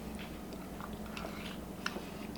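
Crunchy fried potato cakes being chewed up close, with soft crisp bites and mouth sounds running steadily over low background hum and one sharper crunch near the end.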